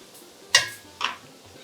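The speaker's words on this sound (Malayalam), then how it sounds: "നമ്മുടെ പരിപ്പൊന്ന് ഇളക്കി കൊടുക്കാം." Two sharp metal clinks of a spoon against a pot while stirring lentils cooking in coconut milk for parippu payasam, brief and close, with quiet between them.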